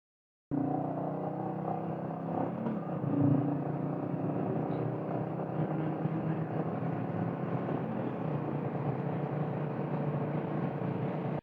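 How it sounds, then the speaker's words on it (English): A motorcycle's exhaust note is captured from inside a rider's helmet while riding: a low, steady engine rumble runs continuously at moderate level under broadband wind noise, starting abruptly after a brief silence. "You could subtly hear the exhaust note"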